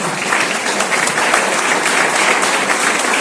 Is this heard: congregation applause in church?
yes